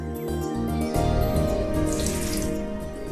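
Hot water poured from a pot onto someone's feet, a steady close splashing pour that runs continuously for about three seconds, growing fuller and louder after the first second.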